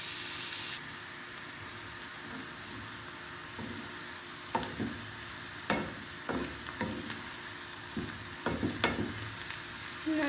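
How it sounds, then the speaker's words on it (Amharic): Onions frying in oil and Arab butter, a continuous close sizzle broken by scattered spatters and clacks of stirring in the pan, with no talking. "ጎልደን እስከሚሆን ድረስ እንጠብሰዋለን"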